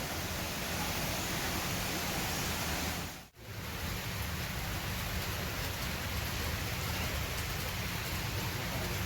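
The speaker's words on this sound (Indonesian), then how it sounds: "Ini cuacanya hujan jadi nggak bersahabat gitu ya." Steady rain falls hard and close while someone shelters during a bike ride, a dense continuous hiss with a brief drop in level partway through and no voices.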